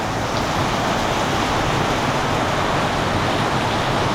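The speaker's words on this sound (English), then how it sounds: "and it's raining now." Rain falling outside near a parked car, a steady broadband hiss that is loud and constant with no breaks and no voices over it.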